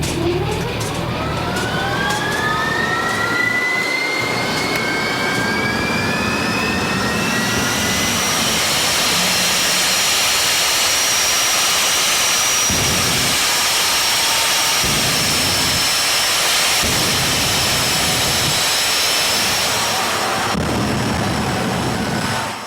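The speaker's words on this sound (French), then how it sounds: "Le turboréacteur démarre en vrombissant." Turbojet engine spooling up on a Toyota Celica converted into a jet car, a rising whine that climbs in pitch for several seconds before settling into a loud, sustained roar that drowns everything else.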